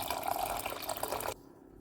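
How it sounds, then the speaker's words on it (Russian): Water is poured into a soup pot of broth with smoked paprika, salt, hot pepper and tomato paste, a steady close splashing stream that cuts off abruptly near the end. "Заливаю водой."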